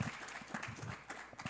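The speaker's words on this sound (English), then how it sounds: "Let's give them another round of applause." Applause from the audience at a mayoral candidate forum in Albuquerque, a steady dense patter of many hands clapping at moderate loudness, with a faint voice now and then.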